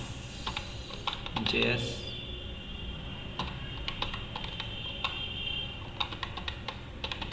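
Fingers tapping out a terminal command on a computer keyboard, quick irregular clicks and clusters of keystrokes at close range, with soft talk in the background.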